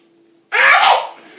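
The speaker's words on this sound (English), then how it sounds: "Did you just sneeze on me?" A loud fake sneeze bursts out close by and then trails off into breathy noise, performed as a prank meant to fool a seated person.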